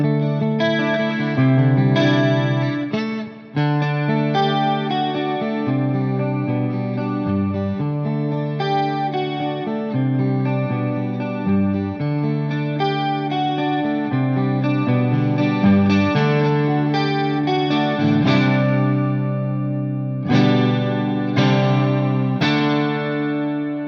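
A modeling electric guitar set to a clean Strat tone plays a continuous run of strummed chords and picked notes, fairly loud and steady, with no voice over it.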